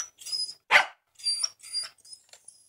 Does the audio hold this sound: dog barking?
yes